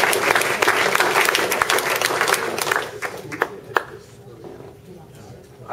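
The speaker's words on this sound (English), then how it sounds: "And let's give our speaker a round of" An audience at a talk on China's new assertiveness applauds its speaker with sustained, dense clapping that thins out and fades after a few seconds into scattered claps.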